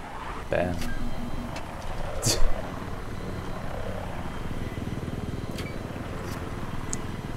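An attack helicopter's steady rotor drone fills the clip with Battlefield 3 game sounds on the Sabalan Pipeline map, a sharp burst near the middle, and people talking in German over it.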